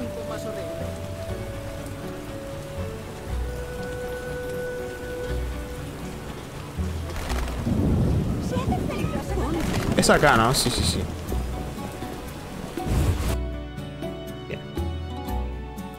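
Steady rain patters in The Witcher, a constant hiss under brief spoken exchanges, with a louder rumbling passage partway through before the sound cuts to a quieter tail.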